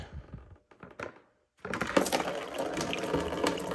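Coolant gushes from a disconnected heat exchanger line on an Infiniti Q50 into a bucket, a sudden steady splashing pour that starts after a few faint knocks and a brief silence and continues loudly to the end.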